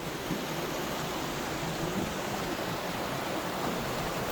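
A mountain valley stream in Bukhansan National Park rushes beside a wooden deck trail, a steady, unbroken wash of flowing water heard close and even throughout, with no voices.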